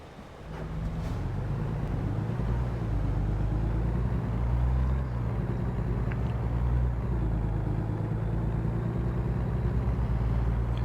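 A truck engine drones steadily while cruising on a freeway in the video game American Truck Simulator, a continuous low rumble with slow shifts in pitch, close and fairly loud, with no speech.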